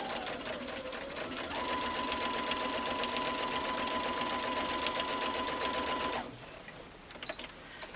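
Sewing machine with top and bottom feed dogs quilting a mini quilt, a fast steady stitching whir with a rising motor tone that runs about six seconds, then stops, leaving quiet handling sounds.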